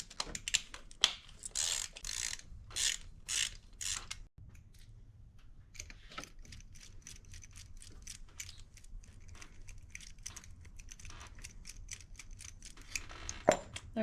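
A ratchet loosens the 10 mm coil pack bolts on a 2011 Chevy Malibu, giving off bursts of rapid clicking followed by slower, sparser ticks, all close and fairly quiet.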